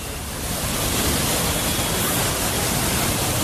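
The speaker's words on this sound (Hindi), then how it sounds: "लगातार बरस रहा पानी आसमान से आफत लेकर आया है" Heavy flood rain pours down in a loud, dense, unbroken roar that swells slightly after the start and then holds steady, with no voices over it.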